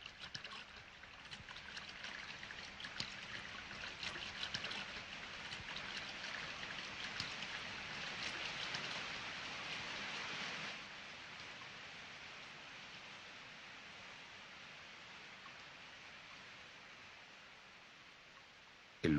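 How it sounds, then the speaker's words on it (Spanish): A horsetail waterfall in Petra, fed by a nearby spring, pours in a steady broadband rush of falling water, fairly faint and continuous, easing slightly in the second half. "Esta cascada de cola de caballo procede de una fuente próxima,"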